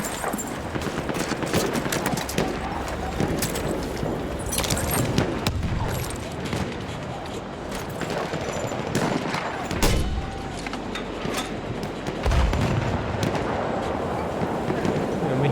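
Continuous gunfire in Battlefield 1, dense rattling bursts and overlapping shots with heavy rumbling in the background, loud throughout.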